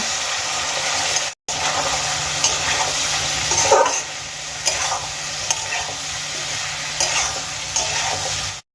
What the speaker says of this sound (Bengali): এবার আমি আলুর সঙ্গে মশলাগুলোকে খুব ভালো করে কষিয়ে নেব